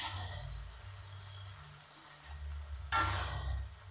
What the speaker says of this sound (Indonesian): saya mau bikin tumis buncis sama ikan teri sauprit